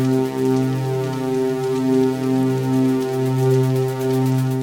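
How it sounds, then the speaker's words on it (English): A sustained synthesized space chord holds steady beneath a wash of modulated white noise that swells and recedes in volume, a continuous hiss drifting in and out over the tones. "So you can hear the volume of that white noise and its modulation fading in and out"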